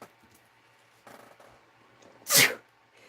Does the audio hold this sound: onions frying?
no